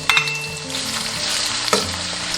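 Shallots frying in lard over the lowest heat, giving a loud, close, continuous bubbling sizzle with a couple of brief clinks or stirring knocks near the start and again late, with no talking.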